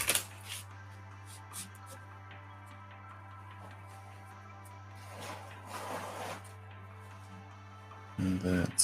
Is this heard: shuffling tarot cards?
yes